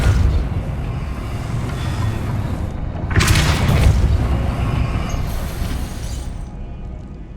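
A Depulso spell bursts in Hogwarts Legacy, a sudden forceful whoosh and boom with a shattering rush that rises out of a low rumbling ambience and then fades.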